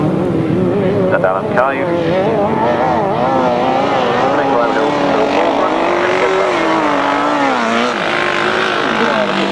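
Motorcycle engines roar and whine continuously at a 1996 grasstrack race meeting, loud and rising and falling in pitch as the bikes pass, with a commentator talking over them.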